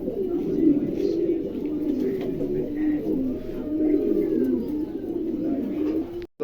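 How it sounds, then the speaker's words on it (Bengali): A pair of Lahori pigeons coo continuously at close range, their low rolling calls rising and falling without a break. "চমৎকার এক জোড়া কবুতর দেখছেন দুটো কবুতরই মার্শাল্লাহ আলহামদুলিল্লাহ খুবই চমৎকার আছে"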